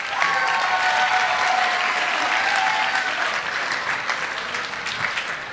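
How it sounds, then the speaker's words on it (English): Steady audience applause at a community music forum with a school wind ensemble, a dense continuous wash of clapping that holds evenly throughout and tapers slightly near the end. "Can we give them all a round of applause?"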